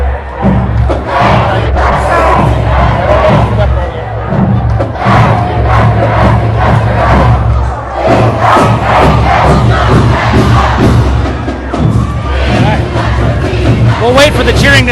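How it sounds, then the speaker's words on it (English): A loud crowd at a girls' basketball game cheers and shouts continuously, a dense roar with voices mixed in throughout. "We'll wait for the cheering to subside."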